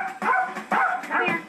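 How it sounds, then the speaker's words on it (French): A dog barks from inside its kennel, three or four sharp, close and loud barks in quick succession with slight whining tones between them. "Il va dans sa niche et commence à aboyer."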